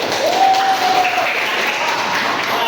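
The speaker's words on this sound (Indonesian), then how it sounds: "berikan tepuk tangan buat kelompok 1" Applause from an audience for the first group presenting in a classroom teaching assessment, a steady broadband patter of clapping lasting a few seconds, with a faint whistle-like tone briefly rising over it.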